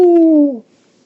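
A voice imitates an owl, giving one long, falling "ooh" hoot that fades out, close and clear, alone with no other sound.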